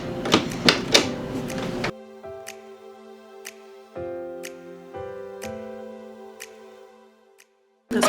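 A Canon inkjet printer running head alignment makes a series of mechanical clicks and ticks. Brief motor whirs and a steady low hum run underneath, with sharper clacks at the start.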